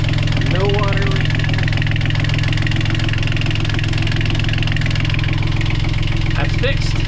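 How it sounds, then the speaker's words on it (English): A boat motor idles steadily and loud from close by, a constant low throbbing hum with mechanical vibration that runs throughout, while a few voices speak faintly over it. "Start the motor up and see if we get any water leak in there."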